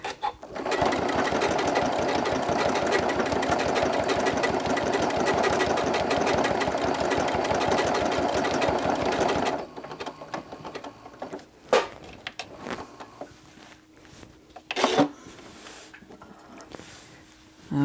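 A sewing machine stitches an appliqué design in a loud, rapid, even mechanical run for about ten seconds, then halts, leaving a few scattered clicks and light handling noises.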